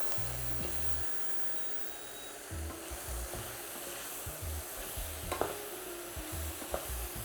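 Broth ingredients with sea moss and gully root sautéing in a pot, a soft continuous sizzle broken by bursts of spoon scraping and stirring against the pot, fairly quiet, no talk.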